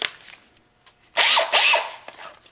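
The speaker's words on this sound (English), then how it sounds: "So I'm going to put this in my cordless drill," A cordless drill turning a socket adapter in the chuck key of an Atlas lathe 3-jaw chuck whirs in two loud, close bursts, with brief quieter handling noise before and after.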